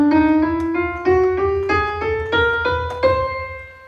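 All twelve notes of a chromatic scale played one at a time, each step a clear struck note ringing into the next as the pitch climbs steadily upward in an even, unhurried rhythm.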